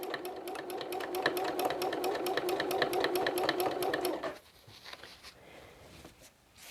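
A sewing machine stitches quilting loops in a fast, even run of needle strikes for about four seconds, then stops abruptly, leaving only quiet room noise.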